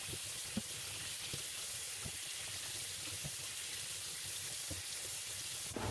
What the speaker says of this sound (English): now I'm doing my last little rinse off